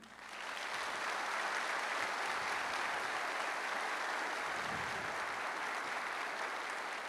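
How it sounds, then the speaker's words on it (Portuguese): Dense, continuous audience applause at a business forum lecture, rising quickly and holding at a full, steady level for several seconds without any talk. "Queria aproveitar e pedir uma salva de palmas para ele."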